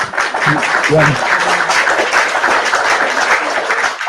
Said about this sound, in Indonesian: Tepuk tangan buat Bunda.